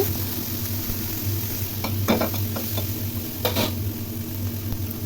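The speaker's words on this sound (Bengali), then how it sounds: "সমস্ত উপকরণ খুব ভালো করে নেড়ে নেড়ে ভেজে নিচ্ছি" Prawns coated with turmeric, chili powder and salt fry in a pan under a constant close hiss of oil. Scattered light scrapes and clinks come from stirring, and no voices are heard.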